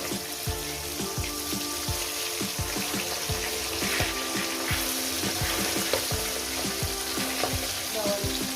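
Pabda fish cooking in mustard-poppy sauce in an uncovered pan, a steady bubbling sizzle with a regular run of soft knocks and taps from a utensil, close and moderately loud, with no voices.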